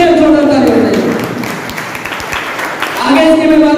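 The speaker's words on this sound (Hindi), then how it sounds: "इसके लिए जोरदार ताली बजाइए।" An audience at a Hindi health and product presentation claps in a short burst of applause. Speech can be heard at the start and end, and the clapping is close and moderately loud in between.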